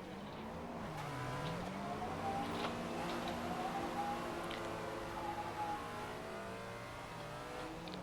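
A race car in the Assetto Corsa driving game drifts while the handbrake is pumped to hold the slide, its engine droning and rising through revs with faint tyre squeal, steady and close throughout.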